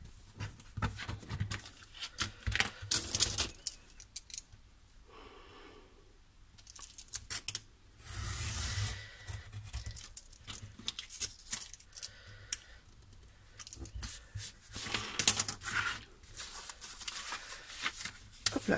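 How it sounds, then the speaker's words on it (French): Scissors cut paper along a fold line for a flipbook, giving a series of close, crisp snipping and rustling bursts separated by quieter pauses, with no speech. "Là, je vais venir couper."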